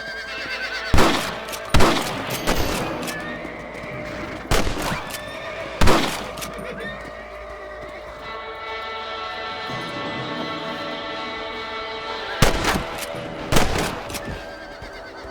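Rifle shots crack loud and sharp in Red Dead Redemption, spaced single reports with echoing tails, amid horse whinnies and western music during a shootout with thieves.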